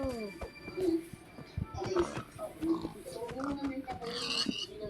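Pig oinking and grunting repeatedly at close range, short rhythmic snorts mixed with people talking nearby.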